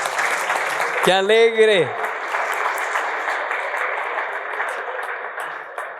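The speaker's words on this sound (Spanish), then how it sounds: "demos un aplauso a los niños, por favor" Steady applause from a church congregation honoring the children, filling the whole stretch at an even level, with a voice briefly speaking over it near the start.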